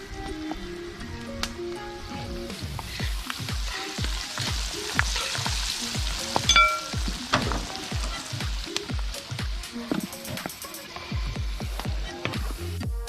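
Pork pieces frying in oil for sweet and sour pork, a steady crackling sizzle with repeated stirring and scraping knocks in the pan, close and continuous with no talk.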